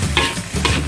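Fried rice being stirred in a hot pan, village-style nasi goreng seasoned with chicken stock, pepper and Worcestershire sauce; two scraping stir strokes over a steady sizzle, close and clear with no talk.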